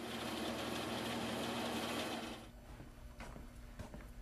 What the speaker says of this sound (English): We use the bandsaw to cut away the wedges we marked on the bottom of our seat.